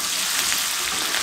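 Chopped onions sizzle in hot oil for the tempering of mutton do pyaza, a steady, close frying hiss over medium-low flame with no voices.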